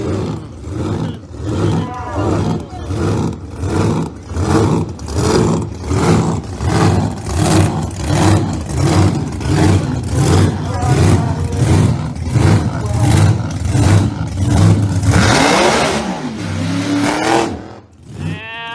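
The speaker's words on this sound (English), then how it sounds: "Louis O coming at you out of Canada with a roots blown machine" A loud, lumpy Roots-supercharged drag racing car engine idles and revs in a steady pulsing rhythm, close by at a dragway, then roars up sharply before cutting off.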